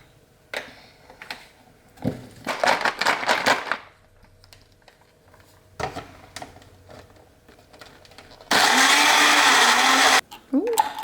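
A blender whirs loudly for about two seconds near the end, mixing a protein smoothie of chocolate oat milk, after scattered clicks, clatter and handling noises in a kitchen.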